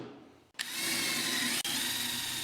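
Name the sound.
palm sander smoothing wooden edges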